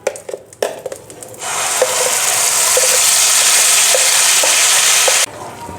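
Jackfruit seed paste frying in ghee for a sweet is stirred, a loud, steady sizzle with occasional spoon scrapes after a few handling knocks at the start, then the sizzle cuts off abruptly.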